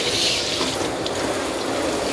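Running water pours and splashes steadily close by as shampoo is rinsed out of a Maltese dog's coat during a grooming bath, with no voices over it.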